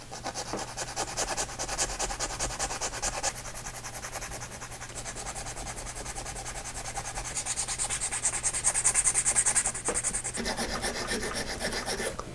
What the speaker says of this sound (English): these areas here, I'm gonna use a round file so those can actually be turned into fillets